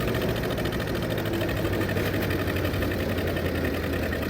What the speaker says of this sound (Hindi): बढ़िया चलता है। फुल स्पीड पे है भाई, फुल स्पीड पे।